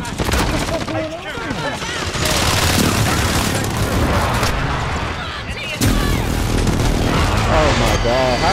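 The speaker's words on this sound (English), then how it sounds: "Enemy precision airstrike, take it!" Heavy gunfire and booming blasts from an enemy precision airstrike in Call of Duty Modern Warfare, loud bursts and explosions in a chaotic mix with voices talking over the noise.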